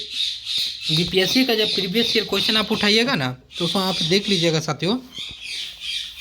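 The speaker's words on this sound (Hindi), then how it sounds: "चिड़ियाँ बहुत बोल रही है तोता हमारे" Pet parrots squawk loudly and repeatedly at a shrill pitch, close by and continuous, mixed in with a man lecturing in Hindi over them.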